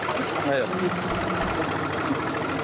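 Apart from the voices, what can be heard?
tractor engine running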